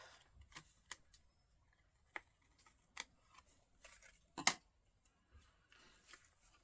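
Scissors snip paper pieces while making a Christmas card, giving a few faint, sharp cuts spaced irregularly among soft rustling and handling noises.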